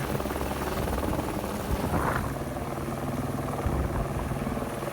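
A helicopter works near a mountain excavator site, its steady thudding rotor and engine roar filling every moment, loud and close, with no voices.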